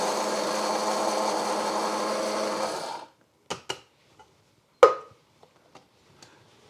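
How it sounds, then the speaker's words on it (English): Electric spice grinder blitzing coriander seeds, cumin, chili and turmeric: a steady whirring run of about three seconds that cuts off, followed by a few scattered clicks and knocks as the jar is handled, with no talking. "First I'll grind the coriander seeds, cumin, chili and"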